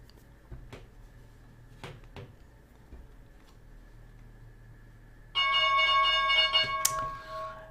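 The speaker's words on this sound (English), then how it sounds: "And there is our opening bell." Stock market opening bell rings out on a live trading broadcast: after a few faint ticks and knocks, a loud, steady metallic ringing tone starts suddenly and sustains for about two seconds before fading.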